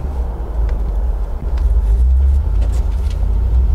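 A 27-year-old Toyota Land Cruiser 80 Series with an LS V8 engine conversion and paddle shift driving along, a loud, steady low engine and road rumble heard from inside the cabin with no talking.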